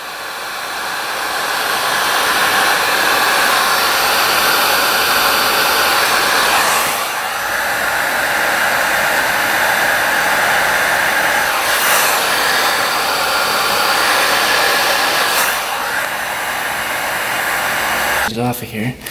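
A heat gun or hair dryer blows continuously, loud and close, while softening rubber parts on a 1975 two-stroke triple motorcycle that sat for 40 years, with the airflow wavering now and then and a brief rattle at the end.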